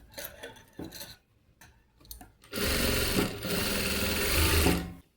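Sewing machine stitching puff sleeves: a few short bursts of stitching with quiet gaps, then a loud, steady run of fast stitching close by that continues to the end.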